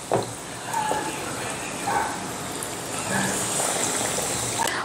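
Mirchi batata vada, chili fritters coated in batter, bubble and hiss as they deep-fry in hot oil, a dense continuous sizzle with soft gurgles and occasional faint clinks.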